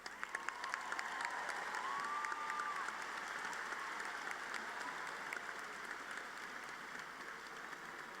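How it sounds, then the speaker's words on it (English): Sustained applause from a large crowd at a university commencement ceremony, a steady dense patter of clapping that continues without a break, heard from some distance. "please join me in a round of applause for the baccalaureate graduates"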